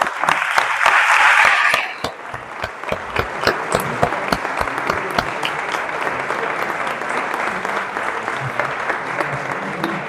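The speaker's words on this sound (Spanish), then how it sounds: "Un aplauso, por favor." An audience at a members' day celebration breaks into applause, a dense burst of clapping that is loudest at first, then thins into scattered, steady claps that continue to the end.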